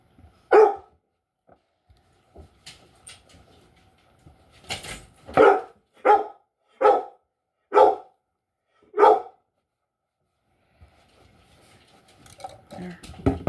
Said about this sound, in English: There's our puppy dogs.